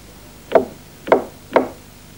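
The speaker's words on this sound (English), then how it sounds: "Knocking." Three evenly spaced, sharp knocks on a door ring out alone and up close, each with a brief hollow wooden decay.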